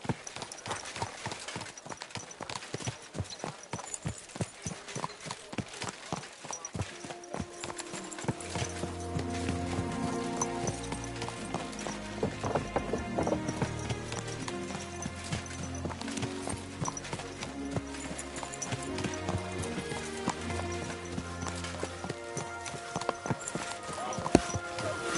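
Steady clip-clop of horse hooves in Kingdom Come: Deliverance II, mixed with music, rhythmic and continuous, with some voices underneath.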